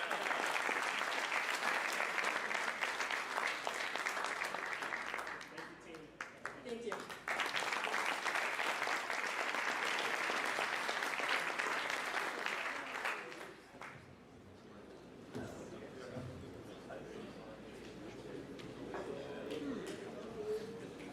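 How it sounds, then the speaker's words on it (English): A room full of people claps loudly for several seconds, pauses briefly, claps again, then fades into scattered chatter and movement. "Let's give every team another round of applause."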